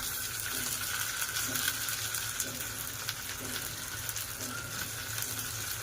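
Chopped tomatoes and potatoes hit hot oil in a pan for a dried bombil (Bombay duck) curry, giving a steady, fairly loud sizzle and hiss that holds through the whole stretch with light stirring clatter.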